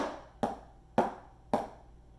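Three sharp drum strokes fall at an even pace, each a crisp hit with a short decay, played alone.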